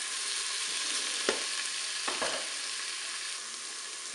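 Sliced courgettes browning in a Cookeo multicooker, giving a steady close sizzle that holds evenly throughout, with a few faint stirring clicks along the way.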